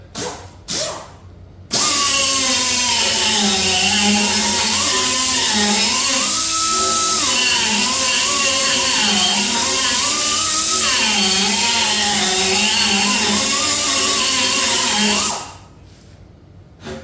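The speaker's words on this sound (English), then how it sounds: "Get you a little grinder, a little die grinder, a little gouging bit." A small die grinder fitted with a gouging bit scours rust from a Big Twin Evo motorcycle frame part, whining steadily at close range for about thirteen seconds with a wavering pitch as it bites, then spinning down to silence.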